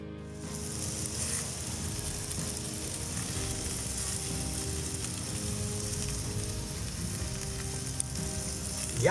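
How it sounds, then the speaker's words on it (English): Frogs calling at night at a rainy campsite, a dense continuous chorus of rasping, ratchet-like croaks that stays steady and fairly loud for the whole stretch. "I don't know whether you can hear the frogs behind me. They're just absolutely going off."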